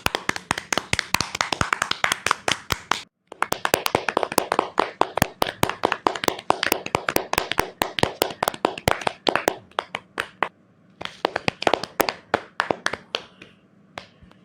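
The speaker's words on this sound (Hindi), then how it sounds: "आइए हम सब उनका तालियों से स्वागत करें।" Audience clapping to welcome a speaker at an event about a priest, fairly close and distinct individual claps from a modest group. It stops briefly, resumes, then thins out into scattered claps.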